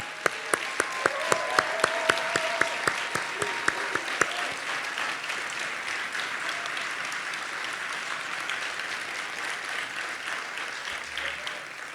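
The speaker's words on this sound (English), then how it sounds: "Let's give them a big round of applause." A large crowd applauds during a Baltimore mayor's State of the City address, with dense sustained clapping and a few sharp, louder individual claps standing out near the start before it settles into an even roar.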